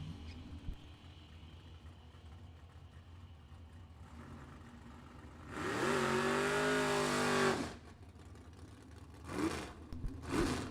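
Mustang convertible launching at a drag strip, its engine roaring loudly for about two seconds with a rising pitch, then dropping away, followed by shorter engine bursts from other cars.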